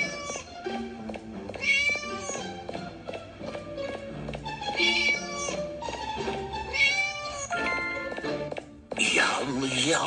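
A cat meows repeatedly in the Scary Neighbor video game, its high, wavering cries rising several times over busy game sounds and footsteps, loud and close.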